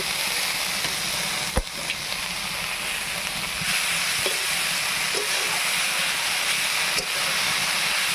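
Small shrimp fry in a pan, a steady loud hiss and sizzle of hot oil running for several seconds, broken by a few sharp clicks and clatters close by.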